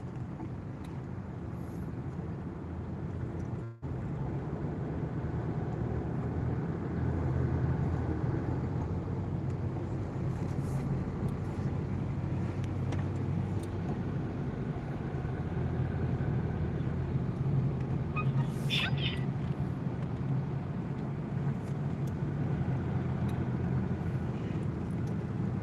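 Steady idling and creeping traffic in a total jam on the Lebak Bulus toll road in Jakarta, a constant low engine rumble with wind buffeting, one sharp thump early on and a faint higher whine midway.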